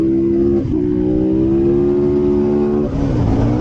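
KTM SMR supermoto motorcycle lapping a karting track, its loud engine holding a steady high buzz near the microphone, easing off briefly twice and pulling strongly again.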